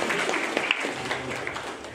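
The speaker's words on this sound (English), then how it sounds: "You can give them a round of applause." An audience in the Shillong College Auditorium claps for prize winners of a drawing and essay competition, soft, scattered applause that is somewhat distant and fades slightly toward the end.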